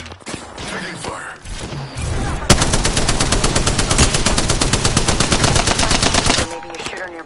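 Rapid automatic gunfire from the Apex Legends battle royale game rattles loud and continuous for several seconds, a steady burst of evenly spaced shots after a moment of quieter game sounds and voice.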